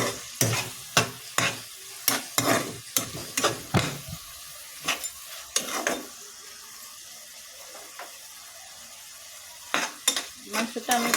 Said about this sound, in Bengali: দিয়ে মাংসটি ভালোভাবে নাড়াচাড়া করে নেই।